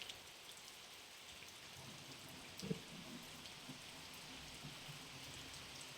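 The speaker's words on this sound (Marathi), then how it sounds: "पाऊस बघा." Rain falling outside a village house in the Konkan countryside, a steady soft hiss of drops that stays even and faint, with one brief knock partway through and no talk.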